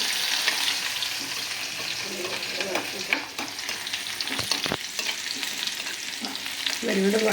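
Garlic and shallots frying in oil in a pan give a loud, continuous sizzle, with stirring scrapes and a few sharp clacks from a utensil against the pan. Nobody speaks.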